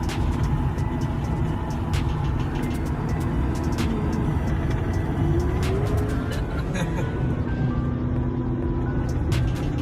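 Car driving fast on the road, a steady loud engine and road roar with passing-traffic swells throughout, under a continuous wash of other noise.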